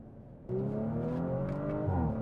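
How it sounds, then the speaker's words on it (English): An Audi RS5 engine revs hard as the throttle is floored, a loud rising roar with strong low harmonics climbing steadily, close and continuous. "as soon as you floor the throttle, just like this"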